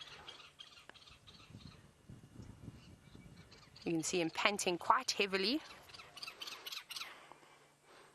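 A Jacobin cuckoo flying over on a South African safari gives a run of loud, ringing, slurred calls in quick succession, rising above quiet talk and faint bush ambience.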